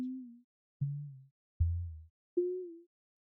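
Four separate additive-synthesis tones built in Max/MSP, each a steady pitched note with a frequency envelope on the first harmonic, sounding alone with short gaps, each decaying over about half a second.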